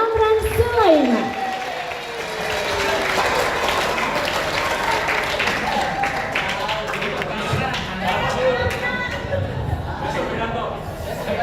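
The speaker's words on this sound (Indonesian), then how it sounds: "Boleh kita berikan tepuk tangan yang paling meriah untuk kakak Puang Ade Amran Sulaiman" An audience at a Universitas Hasanuddin alumni association handover ceremony breaks into sustained applause, a dense, steady clatter of clapping that lasts throughout, with a voice speaking over the opening and crowd chatter mixed in.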